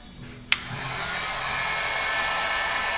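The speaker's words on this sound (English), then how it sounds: "So now you're going to take your heat gun," A heat gun shrinking heat shrink tubing onto a repaired iPhone cable switches on with a sharp click, then blows a steady, close, airy whoosh like a hair dryer that holds for the rest of the clip.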